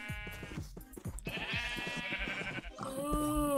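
Sheep bleating in the video game Minecraft: several wavering, nasal bleats follow one another, with the last one loudest, over scattered game sounds and no speech.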